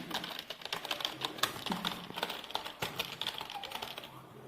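Rapid keyboard typing during a typing test, a steady stream of close, crisp key clicks with irregular bursts and brief pauses, no voices.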